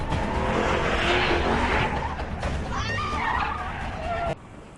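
A car skids with squealing tyres as a panicked driver nearly crashes during a kidnapping chase in a film, a loud broadband rush with sliding squeal tones that ends abruptly.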